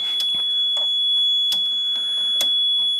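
A higher-frequency test tone played through a small two-transistor audio amplifier built for 5 volts and 250 milliwatts, heard as a steady thin whine held throughout, with scattered clicks and broadband bursts over it.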